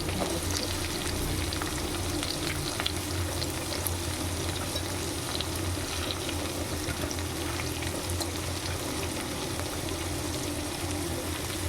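Onion, cabbage, beans and mixed vegetables sautéing in a pan, a steady close hiss and crackle of frying that runs unbroken without talk.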